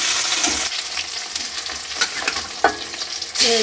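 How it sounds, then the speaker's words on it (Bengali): Onions fry in a pan with a loud, close, continuous sizzle, overlaid with irregular scraping and knocking from stirring. "কিছু পেঁয়াজ আমি ভেজে দিচ্ছি"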